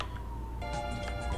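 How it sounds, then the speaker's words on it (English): Emergency vehicle sirens sound outside, a faint wailing tone at a distance, heard briefly alone. "If you hear sirens,"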